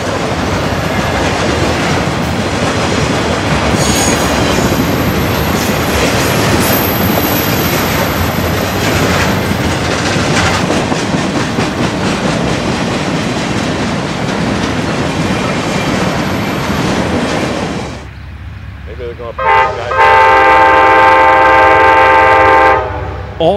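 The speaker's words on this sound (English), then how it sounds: "Trains like this Q126, Jacksonville to Memphis Intermodal, blow through here all day and all night" A CSX Q126 Jacksonville-to-Memphis intermodal freight train rumbles past close by, loud and steady with rolling wheel clatter and squeal for most of the stretch, then drops off as a sustained horn blast sounds near the end.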